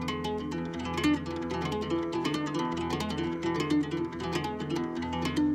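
Quick, fluid melodic runs of plucked and tapped cigar box guitar notes, using tapping and pull-offs, repeating in a steady looping pattern, played alone at moderate volume.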